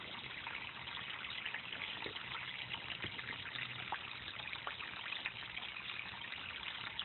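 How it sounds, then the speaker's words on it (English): Water trickles steadily from an aquaponics siphon valve into a grow bed, a continuous soft splashing babble with small drips popping through, faint and unbroken for the whole stretch. "I love the sound of the running water."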